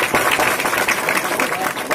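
A crowd at a village race-winner ceremony claps in a steady, dense burst that stays loud throughout, with a voice speaking over it.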